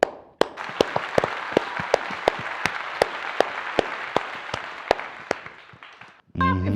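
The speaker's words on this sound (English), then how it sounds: "Clap if you think she should suffer." A single person claps slowly and sharply in an evenly spaced rhythm, about a dozen loud distinct claps over a hissing background, ending with a brief burst of sound.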